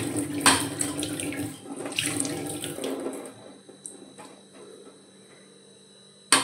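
Tap water runs into a sink while onions and tomatoes are washed under it, a steady splashing stream up close that changes as the produce moves through it and then eases to lighter trickling near the end.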